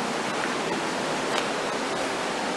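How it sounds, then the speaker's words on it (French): Water flows steadily beneath an abandoned site, a dense, even rushing hiss that holds at a constant moderate level throughout, with no voices. "le bruit que vous entendez, c'est qu'il y a de l'eau qui passe juste en dessous"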